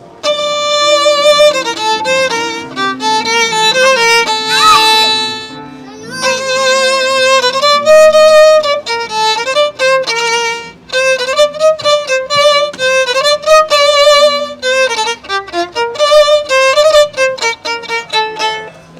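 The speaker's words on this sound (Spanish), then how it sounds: "Se llama la borinqueña y suena así." Puerto Rico's anthem, La Borinqueña, plays loud and clear as a melodic, danceable instrumental with bright sustained tones and a steady rhythm, pausing briefly partway through before continuing.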